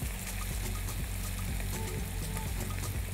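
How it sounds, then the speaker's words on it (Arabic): Soy sauce is poured into a pan of cauliflower and minced meat, making a soft, steady pour over a constant sizzling cooking background. "وهنحط الصويا صوص بتاعنا"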